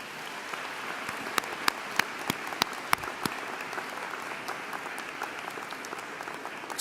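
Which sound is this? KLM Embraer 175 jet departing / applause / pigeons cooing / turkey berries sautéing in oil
applause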